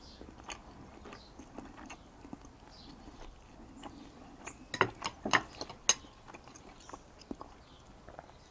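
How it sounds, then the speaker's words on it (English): Quiet close-up chewing of Riverina Dairy chilli halloumi cheese, with soft bites building into a cluster of sharp squeaky crunches midway before settling back to gentle mastication. "Squeaky texture when you chew it."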